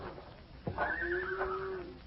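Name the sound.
horse neighing in a radio drama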